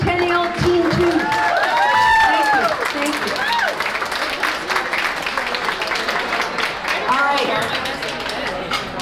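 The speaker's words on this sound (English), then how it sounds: "So can we have a big round of applause for Centennial Team 2?" Applause from a crowd of spectators for a team of chef students at a cooking competition, loud and sustained, with cheering and chatter mixed in.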